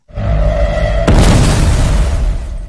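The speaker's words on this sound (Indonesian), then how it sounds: "tempat itu pun meledak bersama para sandera di dalamnya" A building blows up with hostages inside during a film scene, a sudden loud boom that bursts out over a steady rumbling tone and trails off into a long roaring decay.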